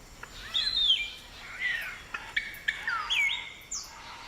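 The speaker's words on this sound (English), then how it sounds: "They join up every morning and afternoon at these nest hollows" Palm cockatoos at their nest hollows give a close series of sharp, whistled calls, several rising and falling squawks in quick succession with short gaps, alone without talk.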